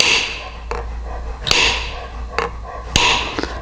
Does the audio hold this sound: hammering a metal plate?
yes